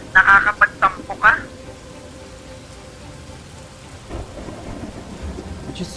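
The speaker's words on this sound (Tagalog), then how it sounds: "Napakalakas pa naman ng ulan." Heavy rain falls as a steady, dense hiss throughout, with brief voice-like sounds near the start and no distinct thunder crack standing out.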